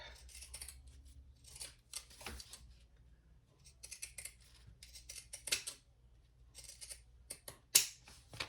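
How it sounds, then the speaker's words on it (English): Pinking shears snipping fabric along a curve, a quick irregular series of crisp close cuts and clicks, some louder snaps near the end, with a faint background hum and no clear speech. "I'm going to use my pinking shears on this curve."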